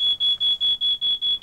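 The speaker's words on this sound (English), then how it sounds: "Fit a smoke detector. This will warn you in the day and wake you at night." A smoke detector alarm sounds inside a caravan, a loud piercing electronic beep repeating in seven rapid even pulses with short gaps, alone with no voices.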